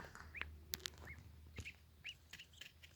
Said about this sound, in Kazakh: Ар жақта брудерда менің балапандарым бар.